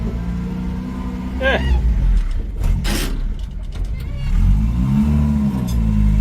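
A little green truck used as a tool runner drives past a shed, its engine rumbling and revving up with rising pitch in the second half, over short bursts of clatter and wind.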